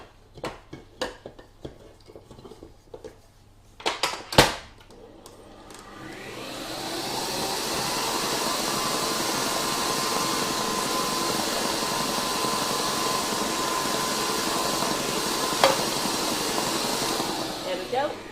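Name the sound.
electric mixer beating Victoria sponge cake batter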